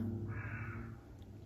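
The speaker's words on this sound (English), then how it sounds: "Just ignore the crows and the airplanes in the background." A single crow caws outside an open window, one drawn-out hoarse call heard faintly at a distance over a low steady hum in the room.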